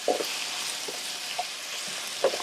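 Sugar and chicken stir-fried together in a wok give off a soft, steady sizzle, with a few light scraping clinks of the spatula as the pieces are tossed.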